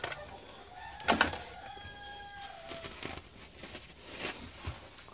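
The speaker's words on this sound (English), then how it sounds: "and my roosters are crowing" Roosters crow outdoors, a couple of drawn-out calls at moderate distance over a steady background hiss, with no talking.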